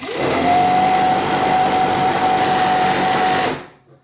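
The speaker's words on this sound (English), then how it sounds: "it's just so strong versus a normal domestic serger" An industrial serger sewing machine runs at a fast, even whir for about three and a half seconds, loud and close, then winds down to a stop.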